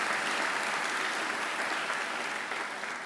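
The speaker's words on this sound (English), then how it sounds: "I think she deserves another great round of applause" A graduation ceremony audience at Macquarie gives a full round of applause, a thick, continuous clatter of many hands that stays loud and even before easing off slightly near the end.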